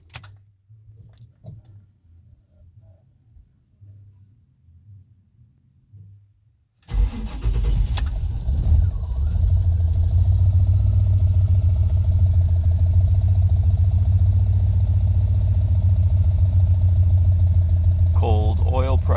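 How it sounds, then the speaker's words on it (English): A 1986 GMC Sierra K3500 truck with EFI fires up on a cold early morning after several seconds of quiet, then settles into a loud, steady, deep idle that runs without a break. "Early morning cold start."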